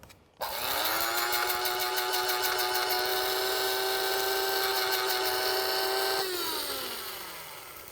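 A grinder whirs steadily as it blends dried lemon peels toward a sand-fine powder, a loud sustained motor whine starting abruptly, running for several seconds, then winding down at the end.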